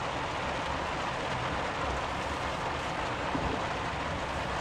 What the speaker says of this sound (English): let's just go over here and park for a minute to let the rain go away